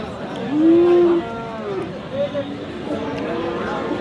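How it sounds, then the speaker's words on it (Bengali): A large cow lowing at a busy cattle market, one long drawn-out moo followed by a shorter one, heard close amid background crowd chatter and people talking. "এটা কিন্তু হাটের মোটামুটি বড় সাইজের একটা গরু"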